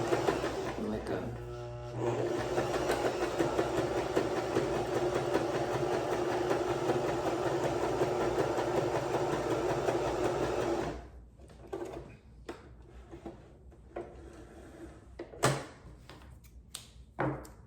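A new sewing machine runs steadily through a zigzag stitch, a loud continuous mechanical whir lasting about ten seconds before stopping, followed by quieter clicks and handling sounds.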